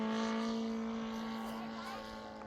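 A large RC airplane in slow flight with flaps deployed, a steady droning engine and propeller hum holding a constant pitch that fades slightly as the plane moves away.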